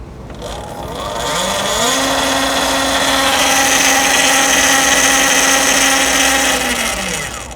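An electric motorbike motor, an ELEEK Atom or Talaria Sting, whines up to a high, steady pitch under throttle, holds there for several seconds, then winds back down; loud and close.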